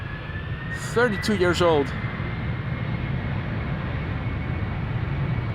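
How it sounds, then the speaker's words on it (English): Jet engine noise from a 32-year-old United Boeing 767-300 departing Amsterdam Schiphol runs as a steady, loud roar through the whole stretch, with a brief burst of talk near the start. "United flight 947 to Washington. 767 300."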